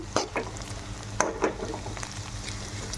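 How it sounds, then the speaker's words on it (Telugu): Okra (lady's finger) frying in a pan, a low background sizzle broken by a few quick scraping stirs of a spatula against the pan. "బెండకాయలు అయితే బాగా ఫ్రై కావాలి. నాకైతే ఇంకా ఫ్రై అవ్వలేదు అనిపిస్తుంది."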